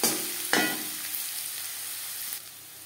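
Chopped onions hit hot mustard oil in a pan with a sharp burst, then settle into a steady, close sizzle that fades slightly toward the end.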